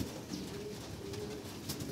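Pigeons coo softly and steadily at a loft while waiting to be fed, low murmuring calls repeating through the clip against faint background noise, with no talking.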